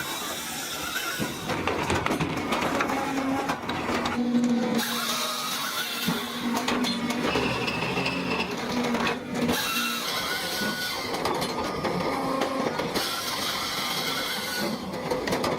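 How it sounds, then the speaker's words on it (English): In an automatic wood splitting machine, a spinning circular saw cuts through a log with a continuous high mechanical whir and buzz that runs throughout, with slight shifts in tone as the blade works. "The spinning circular saw drops instantly, a blur of steel slicing through wood with surgical precision."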